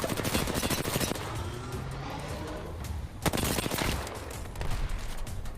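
Rapid bursts of automatic gunfire from an Apex Legends match crackle loudly and almost continuously, with a brief lull near the middle before another dense volley.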